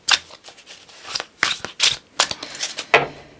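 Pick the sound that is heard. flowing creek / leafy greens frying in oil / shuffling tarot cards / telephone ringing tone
shuffling tarot cards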